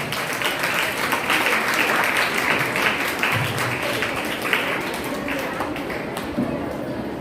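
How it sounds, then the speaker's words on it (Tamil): At a school Women's Day celebration, the gathered audience gives a long round of applause for the principal, a steady bed of clapping that carries on evenly throughout. "நம்ம எல்லாரும் அவங்களுக்கு ஒரு பெரிய கரகோஷத்தை நம்மளுடைய நன்றியா தெரியும்."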